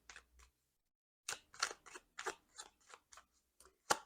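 Tarot cards shuffled by hand, a short burst of crisp riffling and tapping, then a series of papery flicks and snaps in an irregular rhythm, close and fairly quiet with no talking.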